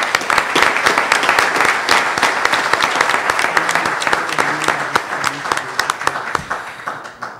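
An audience at a panel event on molecular genealogy in Aguascalientes breaks into loud, close applause that holds for several seconds, then gradually thins out toward the end.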